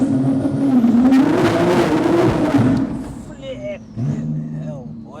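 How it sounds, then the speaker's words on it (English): A 900 bhp Porsche Turbo launches hard at night, giving a loud, dense engine roar that surges for about three seconds and then fades as the car pulls away, with excited voices talking over it near the end. "That is a violent launch control, people."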